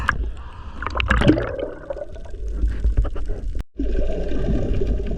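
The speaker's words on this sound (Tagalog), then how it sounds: "Napakagalaw ng tubig." Rough, heavily churning sea water at a fishing spot with strong waves, sloshing and gurgling loudly and continuously close by, with a brief cut before the surging resumes.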